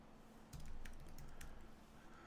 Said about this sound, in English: I'm going to have to type it in